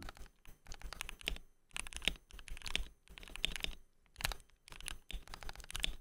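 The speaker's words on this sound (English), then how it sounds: "My main keyboard of choice is a KVD67 Lite R3 with ink black switches." Typing on a KBD67 Lite R3 mechanical keyboard with lubed Ink Black switches and GMK keycaps: close, steady bursts of clacky keystrokes in quick rhythmic runs, separated by short pauses, with no talk.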